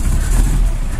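A 1977 Chevy Luv engine held at steady revs with the gas pedal down, a loud, close, continuous rumbling drone.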